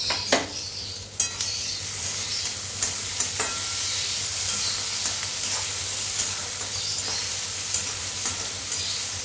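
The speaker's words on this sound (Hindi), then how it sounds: "अभी इसे हमने अच्छी तरह से चला लिया है" Potato curry sizzling steadily in a pan as a medium tomato is stirred in, a constant loud hiss with repeated scraping strokes of the spoon throughout, no voices.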